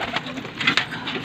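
Gola pigeons coo close by in a brief burst of soft, throaty calls, a couple of quick rolling coos over light background noise.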